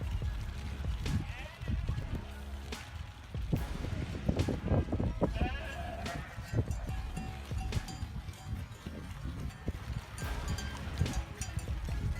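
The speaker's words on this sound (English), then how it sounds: "A dense flock of sheep blocks the road, forcing traffic to pause as the woolly pedestrians stroll by." A dense flock of sheep crowds a road, with scattered bleats rising over a steady shuffle of hooves and low rumble; a voice speaks briefly amid the busy, close animal noise.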